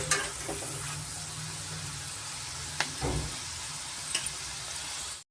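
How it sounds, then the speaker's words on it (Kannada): Avarebele and poha mixture frying in oil over a high flame, a continuous crackling sizzle with occasional sharp scrapes and knocks of a spoon stirring the pan, no talking. "ನಾವು ಹೈ ಫ್ಲೇಮಲ್ಲೇ ಸ್ವಲ್ಪ ಕೈ ಆಡಿಸ್ಕೊಂಡು ಫ್ರೈ ಮಾಡ್ಕೊಬೇಕಾಗತ್ತೆ"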